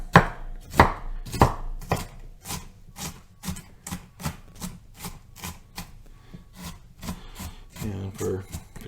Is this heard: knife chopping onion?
yes